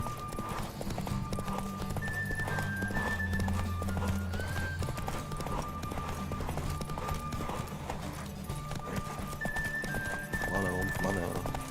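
Roach, Geralt's horse in The Witcher 3: Wild Hunt, gallops with steady, continuous hoofbeats through most of the stretch, joined by an occasional whinny. Someone talks over it, and game music plays underneath.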